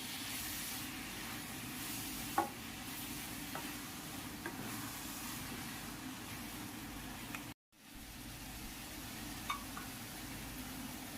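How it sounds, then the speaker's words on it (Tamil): Paneer roll filling fries in a pan with a steady, even sizzle throughout, broken by a few light scrapes as it is gently stirred. "இப்போ லைட்டாக கிளறிக்கலாம். இதை ரொம்ப போட்டு கிளற வேணாம், உடஞ்சிரும்."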